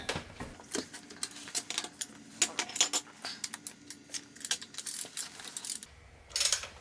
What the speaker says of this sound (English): I'm going to loosen one of the lug nuts.